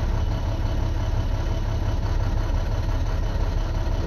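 A 2012 Maxxforce DT diesel engine idles during an injector cylinder cutout test, giving a steady, low, rumbling clatter up close with no talking.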